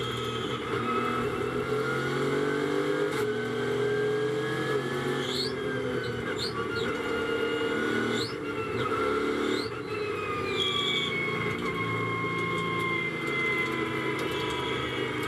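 Onboard engine note of the #777 Mercedes GT4 race car driven by Dominic Schrammel at Paul Ricard, a steady loud drone with shifting pitch sweeps as it weaves and accelerates, alone without talk.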